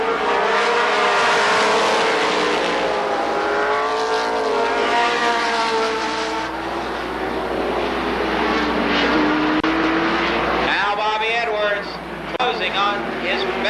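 Stock car engines roar steadily at Columbus Motor Speedway, with rising and falling harmonic whines as cars sweep past during a lap, loud and continuous beneath an announcer's running commentary.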